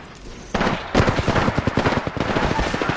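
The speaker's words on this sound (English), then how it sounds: "The enemies are shooting at me." Enemy gunfire in Apex Legends: a couple of sharp opening shots, then a sustained stream of rapid automatic fire that cracks loudly and nearby in a fast, slightly uneven rhythm.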